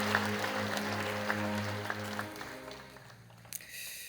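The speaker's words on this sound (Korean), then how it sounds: "여러분께 박수로 환영하십시오." A church congregation at a Sunday service applauds to welcome newcomers, a soft, steady patter of clapping under a sustained organ or keyboard tone that fades out toward the end.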